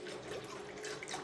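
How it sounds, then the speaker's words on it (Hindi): About a litre of water pours into a pot on the flame for raw mango murabba, a steady close gushing splash with no talk. "तकरीबन 1 लीटर के करीब हम इसमें पानी ऐड"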